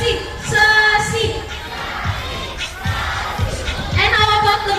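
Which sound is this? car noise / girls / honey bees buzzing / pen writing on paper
girls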